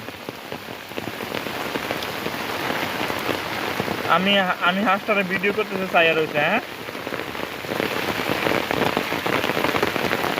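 Rain patters steadily on surfaces in a close, continuous hiss, while a voice talks briefly partway through.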